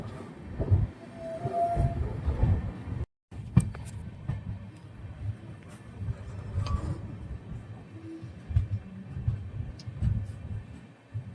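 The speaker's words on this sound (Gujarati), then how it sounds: "હાપામાં 12 વાગે રેલવે સ્ટેશન પર ટ્રેન આવી ગઈ છે" A train at Hapa railway station, platform 1, at night: low rumbling of carriages with clanks and a few squeals, moderately distant and fairly quiet, with a brief dropout partway.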